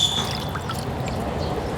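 Large shiitake mushrooms are rinsed under running tap water, giving a steady close pour and splash with brief drips, no talking.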